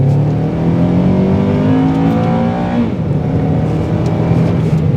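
A Honda Accord Euro with 230,000 km on it drives and revs from inside the cabin, its engine note rising in pitch through a gear before dipping and climbing again, loud and continuous with no talking.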